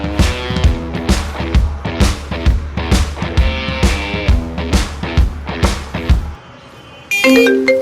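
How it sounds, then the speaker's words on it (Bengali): A phone ringtone for an incoming call chimes in a bright, repeating melodic pattern for about six seconds, loud and close, then cuts off and a short electronic tone follows. "এই সময় কে ফোন দিল?"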